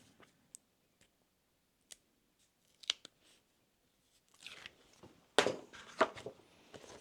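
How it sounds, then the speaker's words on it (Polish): Double-sided tape being peeled from the back of a cut template in a leather and cork bag-making workshop: a few faint scattered clicks, then close crackling, tearing bursts. "Zdejmuję taśmę."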